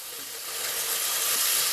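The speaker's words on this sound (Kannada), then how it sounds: "ಹಸಿ ಸ್ಮೆಲ್ ಹೋಗೋವರೆಗೆ ಫ್ರೈ ಮಾಡ್ಕೋಬೇಕು" Spice paste for mutton leg soup sizzling steadily in a hot pan with mint leaves, a bright continuous fry hiss that swells slightly as it goes, no voices.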